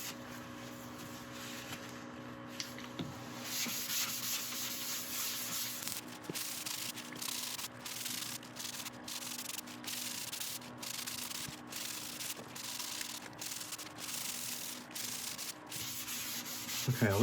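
Blonde shellac sealer is rubbed onto a spinning yellowheart wood cookie on a lathe, a steady close rubbing and swishing over a low motor hum, broken by regular soft pulses toward the end.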